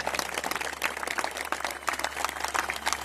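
Applause from an audience at an RSS Vishwa Hindu Garjana rally speech: dense, steady clapping across the whole stretch over a low hum, with no clear talking on top.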